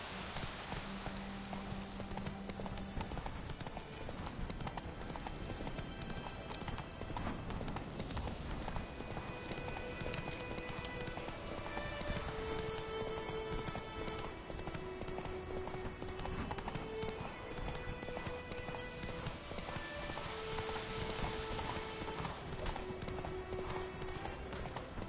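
Roach, Geralt's horse in The Witcher 3, gallops steadily with a rapid, continuous clip-clop of hooves that holds up through the whole stretch, set against light game music.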